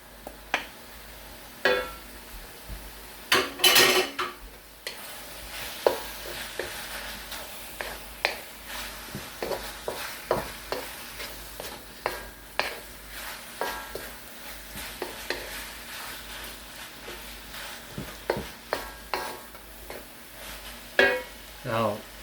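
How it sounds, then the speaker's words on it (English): Shrimp stir-frying in a pan for Korean japchae with sweet potato glass noodles, giving a soft sizzle broken by repeated clattering stirs and scrapes of a utensil against the pan. "Now we'll add the shrimp."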